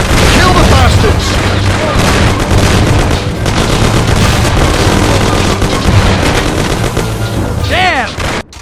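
Dense, loud gunfire and booming explosions from a shootout in the Mafia: The City of Lost Heaven video game, continuous rapid shots with heavy blasts, and shouting voices mixed in.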